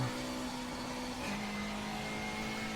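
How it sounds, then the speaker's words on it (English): Race car engine in a racing video game held against its rev limiter: a loud, steady, buzzing engine drone that shifts pitch slightly partway through, with no talking. "Hit the rev limiter."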